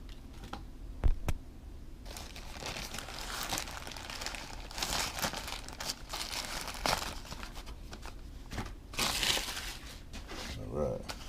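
Plastic parts bag for a micro scale model truck crinkles and rustles as it is handled and opened, in close bursts of crackling, with a person talking at times.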